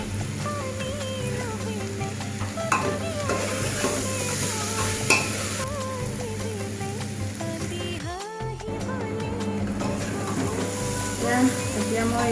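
Chole masala being stirred in a pan over heat: steady sizzling with repeated scraping stirs, while a person talks and melodic background sound runs underneath; a short dip in the middle interrupts the frying noise.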